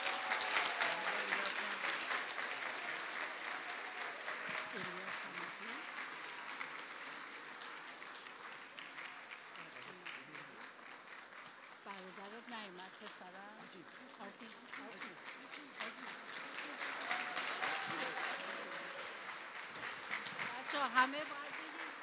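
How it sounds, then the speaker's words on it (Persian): Sustained audience applause at a school Nowruz celebration, a dense steady wash of many hands clapping for the full stretch, swelling and easing slightly, with a voice speaking over it through a PA. "ادامه بدین دست زدنتون."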